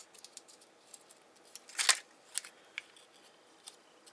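Scissors snip through a transparency sheet in a quiet room, one crisp cut standing out amid a few lighter snips and small handling clicks.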